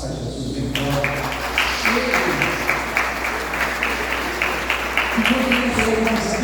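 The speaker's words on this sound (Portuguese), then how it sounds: "Palmas para Jesus, bem forte." A church congregation claps together during a worship service, a dense sustained applause of many hands filling the room at steady volume, with some voices mixed in.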